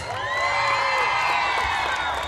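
A crowd of guests at a church celebration cheers and applauds loudly for the priest, a dense, steady wash of clapping with whoops and shouts running throughout at close range.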